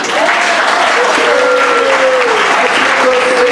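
Steady applause from an audience at a political campaign speech in Santa Cruz, a dense, even clapping that fills the whole stretch, with a faint voice or whistle drifting through it.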